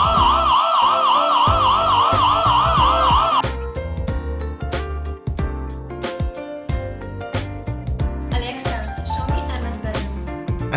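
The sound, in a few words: loud alarm siren from an imou Q2 wifi security camera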